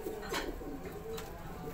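Pigeons cooing steadily at a bird keeper's loft in Faisalabad, a low murmuring coo close by over a continuous background hum, with a couple of brief sharper bird calls.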